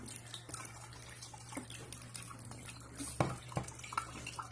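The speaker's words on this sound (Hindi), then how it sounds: "और नीचे इस बाल्टी में अभी हड़ियाँ जा रही है।" Hadiya rice beer drains from kneaded, water-soaked mash into a bucket below, a quiet continuous trickle with dripping splashes, close and steady, with a couple of small knocks near the end.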